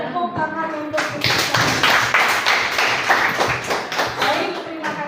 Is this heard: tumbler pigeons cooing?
no